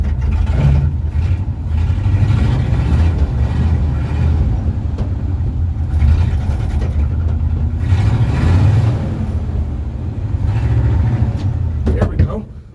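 A big truck engine runs loud and close, droning steadily with a few revs that rise and settle before it cuts out near the end, voices faintly mixed in.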